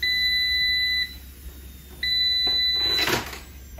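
An air fryer beeps with two long, steady electronic tones separated by a pause while cooking sweet potato fries, followed by a brief clatter.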